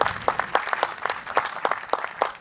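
Audience at an Arab cinema center event clapping steadily in a dense, close round of applause, with individual claps standing out across the short burst.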